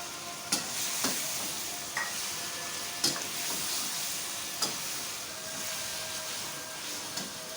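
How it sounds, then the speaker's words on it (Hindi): Minced keema meat frying with potatoes in a pan, a soft continuous sizzle with a handful of sharp spatula scrapes and taps spaced a second or two apart, near and fairly quiet. "अब मैं इसमें कीमा ऐड करूँगी। कीमा डाल दें।"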